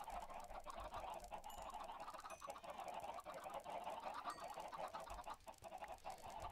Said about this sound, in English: so we got a lot of chickens here